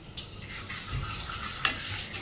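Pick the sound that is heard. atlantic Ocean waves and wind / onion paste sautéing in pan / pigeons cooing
onion paste sautéing in pan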